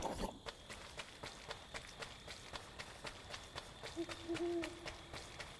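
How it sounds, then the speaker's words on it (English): Owl hooting in the Death's Door video game, a soft low hoot that comes in briefly near the end over steady rhythmic footsteps and quiet game ambience. "Aha! I hear an owl."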